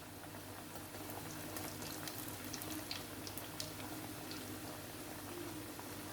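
Breadcrumb-coated potato cutlets frying in hot oil give off a steady, soft sizzle and crackle, low in level and continuous, with no voices.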